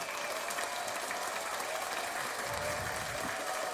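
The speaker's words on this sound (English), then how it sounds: "round of applause" Applause on an online talk show, a dense, continuous wash of clapping that keeps the same level throughout with no voices.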